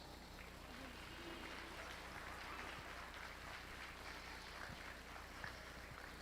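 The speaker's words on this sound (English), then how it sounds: "let's give this first heat of beginner showmen a round of applause." An audience at a county dairy goat show applauds a heat of beginner showmen, a faint, even patter of scattered clapping heard from a distance that stays steady throughout.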